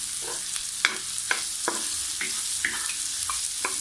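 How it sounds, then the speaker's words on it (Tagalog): Onions sauté in a pan for a Filipino seafood dish, a steady close sizzle broken by several sharp scraping stirs of the utensil, with no talking. "Gisa-gisa hanggang maging translucent na yung ating"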